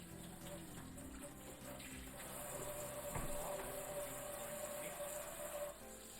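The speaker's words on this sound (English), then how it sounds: "Let me wash my hands." Tap water runs steadily into a sink while hands are washed in a home kitchen, a continuous broadband rush that swells slightly midway, with faint voices in the background.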